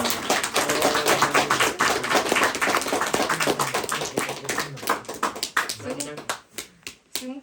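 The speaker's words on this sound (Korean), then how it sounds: "박수." Applause from an audience after a group's book presentation, many hands clapping rapidly and densely, loud and continuous before thinning into a few scattered claps at the end.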